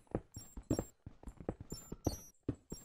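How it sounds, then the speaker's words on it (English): Objects breaking in a Zelda-style video game give quick, clattering knocks and thuds in an irregular rapid series, quiet and close. "that's the sound of you breaking stuff"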